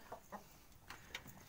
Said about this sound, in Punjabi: ਕਈ ਨੇ ਕੁੱਕੜ ਅੰਦਰ, ਕੜਕਨਾਥ ਦੇਸੀ